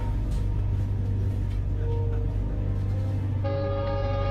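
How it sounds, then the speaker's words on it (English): A train horn sounds over a heavy, steady low rumble of a passing train, with a clear sustained horn tone near the end standing out above the constant roar. "the train whistle echoed everywhere and everyone could hear it"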